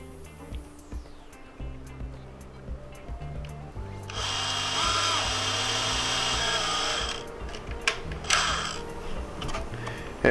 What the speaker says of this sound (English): I'm just going to be drilling a pilot hole